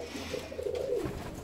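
Fancy ornamental pigeons coo in a soft, low, rolling call lasting about a second, close by over a quiet background, with no one talking.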